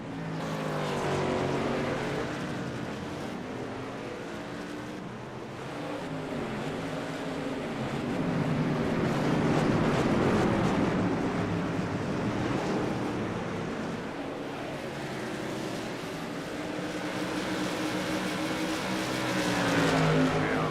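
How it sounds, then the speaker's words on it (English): SIGMA modified race cars racing at Oran Park Raceway, a steady, continuous roar of many engines swelling and fading as the pack passes, loud and sustained throughout with no voices. "This is a whole lot of cars."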